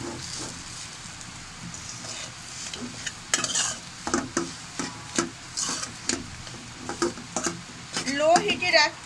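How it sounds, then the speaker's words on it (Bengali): Black cumin paste sizzles in hot oil over low heat while being stirred, with steady frying hiss and repeated scraping strokes of the stirring utensil, close and clear. "লো হিটে রেখে এভাবে কিছুক্ষণের জন্য ভালোভাবে নেড়ে চেড়ে একটু ভালোভাবে ভাজা ভাজা করে নেব।"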